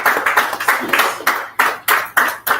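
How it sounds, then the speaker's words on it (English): An audience at a business summit claps in short bursts, a rhythmic run of close hand claps rising and falling several times over a couple of seconds, with no talking. "Please, a round of applause for Solomon."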